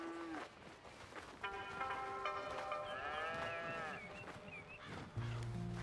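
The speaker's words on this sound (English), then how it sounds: "All right then. Here's the cows." Cattle on a ranch in Red Dead Redemption 2 low and bellow in long, drawn-out tonal calls that overlap one another, fairly quiet within the game's ambient background.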